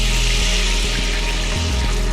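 Ladles of starchy pasta water poured into a pan for pasta alla gricia: a steady, loud splashing gush with a slight sizzle, continuous throughout, with no voices.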